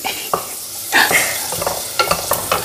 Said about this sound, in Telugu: ఆనియన్స్ ఫ్రై అయ్యాయి.